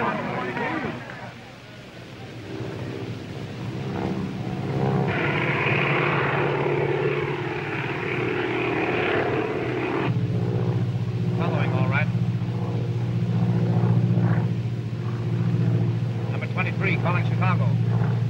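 A propeller airplane drones steadily in flight, as heard in a 1937 film. The engine hum is continuous and fairly loud throughout, with occasional voice-like sounds over it.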